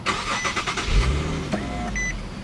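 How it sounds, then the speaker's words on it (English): A 2012 Infiniti G37 starts by push button: a short whirr, then the engine catches and settles into a steady idle, with a chime beeping just after. No one talks. "Put your foot on the brake, push the start button."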